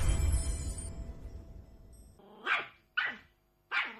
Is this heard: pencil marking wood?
no